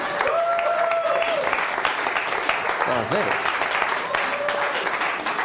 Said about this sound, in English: I think she deserves a big round of applause.